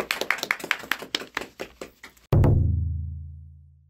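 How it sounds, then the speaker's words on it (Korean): A small group claps by hand in a rhythmic run of sharp, close, evenly spaced claps for about two seconds, welcoming a guest at a school broadcast show, then an abrupt low musical chord sounds and fades away. "박수."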